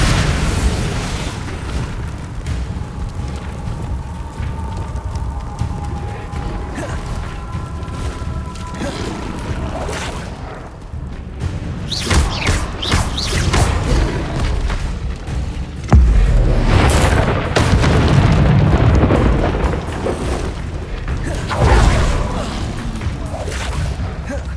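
A Bombarda spell explodes in the Hogwarts Legacy game, giving repeated heavy booms and bursts with rumbling debris across a long, busy stretch. Magical combat effects and a shouted voice are mixed in.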